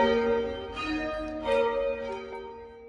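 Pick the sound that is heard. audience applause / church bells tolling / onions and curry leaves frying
church bells tolling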